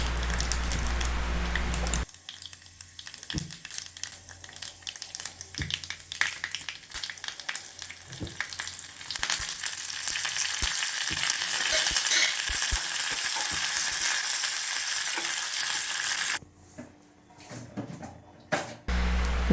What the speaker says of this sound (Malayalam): കടുക് ഉലുവ കുറച്ച് ഉലുവ ഒരു അര ടീസ്പൂൺ ഉലുവ മതി ഉലുവ വറ്റൽമുളക് കറിവേപ്പില എല്ലാം ഇട്ട് നമുക്കൊന്ന് കടുക് വറുത്തിടാം